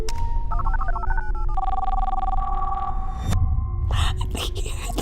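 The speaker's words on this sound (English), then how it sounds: "I think you heard the phone ring." A telephone rings with a repeating electronic tone pattern, followed by a burst of louder, busier noise near the end.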